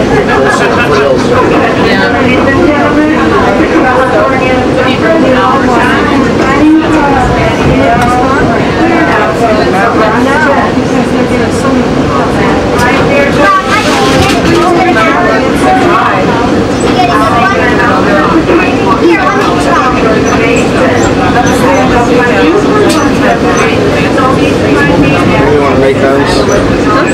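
Amtrak California Zephyr coach wheels rolling steadily on rails in 2006, a loud continuous rumble and rattle heard from inside the car, with passengers chattering over it throughout.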